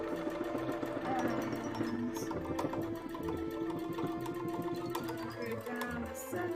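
A sewing machine stitches an embroidery panel for a cosplay costume: a steady, close, rhythmic mechanical whirr that runs the whole time, with a voice talking over it.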